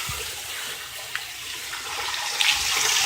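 Tide washing machine cleaner is poured from a cut packet into a top-loading washer, giving a steady, hissing, water-like pour that runs through the whole short stretch at moderate level with no talking.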